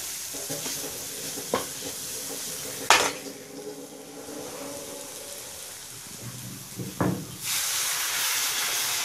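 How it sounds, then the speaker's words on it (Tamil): Vadacurry masala in a pan with water added, bubbling and simmering with a steady sizzle and hiss, a few louder stirring clinks or bursts, no talk. "இந்த மசால் கொதிக்கணும் கொஞ்சம்."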